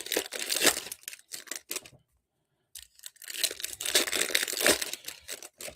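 Foil hockey card packs being ripped open by hand, with bursts of sharp crinkling and tearing, a brief pause, then more rapid tearing, close and loud.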